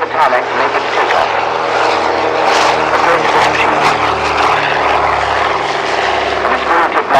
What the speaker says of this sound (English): The first aircraft that is going to leave the very front in the early hours of tomorrow morning is turning on the end of the tarmac to make its takeoff